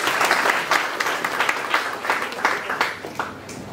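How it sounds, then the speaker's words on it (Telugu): An audience of Akshaya tutors claps in a steady burst of applause at a police officer's address. The clapping is dense and fairly close, with a few stronger peaks, and no talk sits over it. "క్లాప్ చేయండి."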